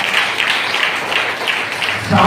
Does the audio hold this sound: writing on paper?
no